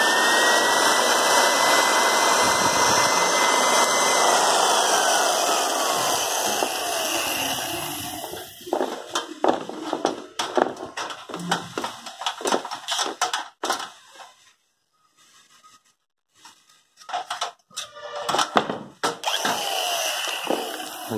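A Japanese 100V handheld electric drill whines steadily up close for several seconds, then runs in choppy bursts with brief pauses and a short silence near the end.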